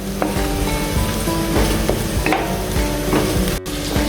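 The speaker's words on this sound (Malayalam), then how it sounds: "ഇനി നമുക്കൊരു പാത്രത്തിൽ എണ്ണ ഒഴിച്ച് അതിൽ ജിഞ്ചർ ഗാർലിക് ഇടുക" Ginger and garlic sauté in hot oil in a pan, a loud close sizzle with regular scraping strokes of a spoon, briefly cutting out near the end.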